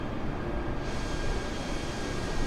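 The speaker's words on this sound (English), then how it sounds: "I can hear the wind." A constant airy rush of wind in a Virgin Australia airliner flight simulator hangs at a low, even level, a smooth wide hiss with a deeper rumble beneath and no voices.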